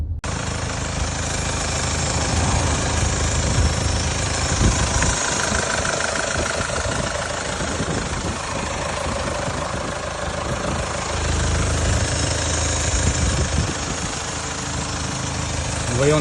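The 2.2 litre diesel engine of a Kia Sorento III SUV idles steadily up close, a constant low chug with a faint knocking rhythm and a broad hiss above it.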